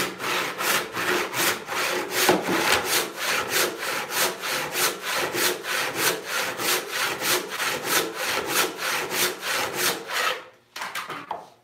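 Close, brisk hand-saw strokes rip along an 8-inch-wide walnut board during a resaw, some two dozen rapid even rasps before a short pause and a few more.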